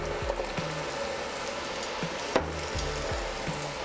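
Carrots frying in a pan for creamy tuna pasta give a steady, close sizzle, broken by a few soft thumps and scrapes as they are stirred.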